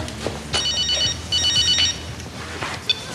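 An indoor telephone rings in a French drama scene, two clear bursts of electronic trilling in quick succession with a faint click afterward, close and fairly loud with no talk over it.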